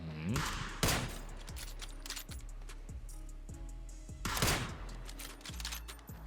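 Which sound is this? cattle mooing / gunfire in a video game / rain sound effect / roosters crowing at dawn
gunfire in a video game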